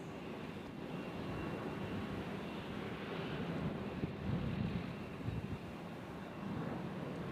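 Southwest airliners arrive at Nashville International Airport, a faint, distant low jet rumble that holds steady with wind buffeting the microphone.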